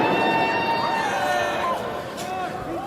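A crowd of protest marchers in Atlanta, with police cars approaching the march, fills the air with a dense, close babble of many voices, steady and loud throughout, as rising and falling tonal calls or shouts drift over the din.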